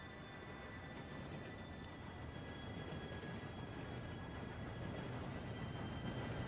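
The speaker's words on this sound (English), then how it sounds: "Train should be here any minute now." A train approaching along railway tracks, a steady broadband rumble and hiss that swells slowly and continuously, with no talk over it.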